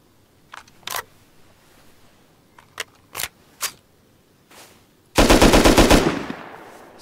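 In the video game Rust, an LR rifle is handled with a few scattered clicks, then fires a rapid automatic burst of about a dozen close, loud shots that tails off into a brief echo.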